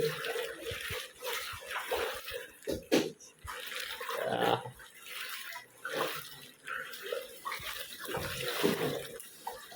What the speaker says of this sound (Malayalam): അടുക്കളയിൽ കൂടിയൊക്കെ വെള്ളം വരുന്നുണ്ട്